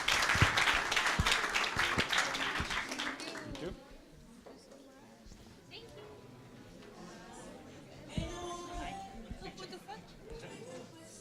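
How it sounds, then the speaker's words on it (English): An indoor audience at an agricultural career fair claps for panelists in a dense burst of applause that fades after a few seconds into crowd murmur, followed by a short second flurry of clapping. "Can you give them a round of applause and we'll give them gifts."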